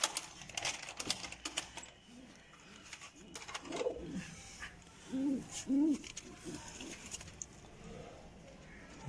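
Soft coos from fancy show pigeons rise in a few short bursts over faint background clatter and murmuring, fairly quiet and close by.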